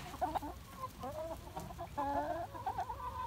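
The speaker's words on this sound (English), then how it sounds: "Yes, the chickens are out" Several chickens cluck and murmur continuously close by, their short pitched calls overlapping over low background rumble.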